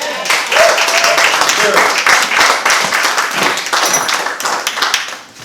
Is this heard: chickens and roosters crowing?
no